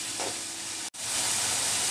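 Shrimp frying in a pan for a potato chop, a steady close sizzle and hiss that runs continuously with one brief dropout near the middle, no voices.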